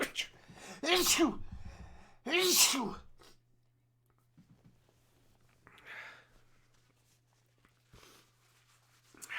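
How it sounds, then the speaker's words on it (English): A man with a cold lets out two massive sneezes close to the microphone, one soon after the other. Quiet breathing, small noises and faint murmuring follow over a low steady hum. "I've just got massive sneezes, man."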